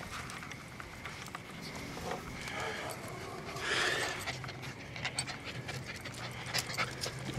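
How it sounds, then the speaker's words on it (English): A hot dog in a garden pants rapidly and steadily at close range for several seconds, with a person talking quietly over it. "She's panting."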